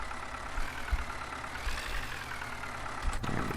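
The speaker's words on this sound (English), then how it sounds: "I'm gonna have to move Mr. Tractor out of the way." Tractor engine in the Farming Simulator 15 video game, a low steady idle with gentle rises in revving as it starts to move, moderately quiet and continuous without talk.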